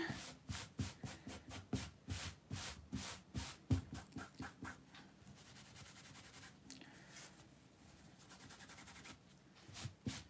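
Cloth sock being rubbed briskly over a dark shirt to wipe away heat-transfer vinyl residue, a close, steady series of scratchy swipes that quicken into rapid strokes before easing into softer, continuous rubbing.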